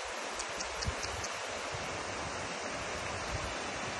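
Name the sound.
salty spring water flowing out of a mountain in the desert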